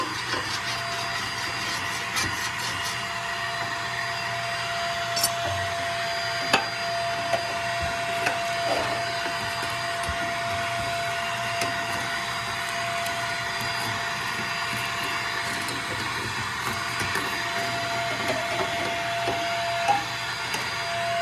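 A vacuum cleaner hums loudly and continuously, sucking ash from a Harmon Absolute 63 pellet stove, with occasional clicks and knocks as the nozzle scrapes against metal.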